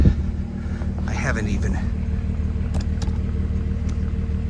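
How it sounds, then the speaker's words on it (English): A first-generation Porsche Cayenne engine with a modified internal muffler idles with a steady low rumble, someone talking briefly over it near the start. "Okay, just started the car."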